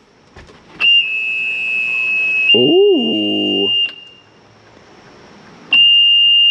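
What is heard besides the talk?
fuel-injected Mercruiser fuel pump priming on port engine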